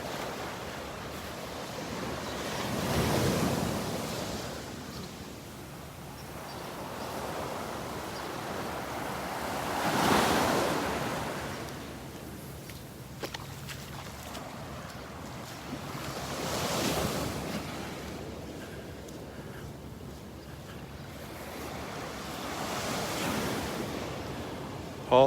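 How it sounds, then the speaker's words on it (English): Ocean waves break on Vanderbilt Beach in Naples, Florida, with four slow surges rolling in every six or seven seconds under constant wind rumble against the microphone. "Love the sound of those waves."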